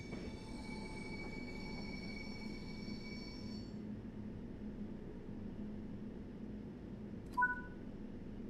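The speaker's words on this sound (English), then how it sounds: "the British Rail Class 90 is a 4-axle electric locomotive" A simulated British Rail Class 90 four-axle electric locomotive runs steadily in a train simulator game, with a continuous rolling rumble, a high whine fading out partway, and a brief squeal near the end.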